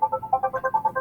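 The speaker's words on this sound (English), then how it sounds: "Sorry, my phone is ringing, but I will call them back." A phone ringtone plays a quick, repeating melody of bright tones, loud and close, with no talking over it.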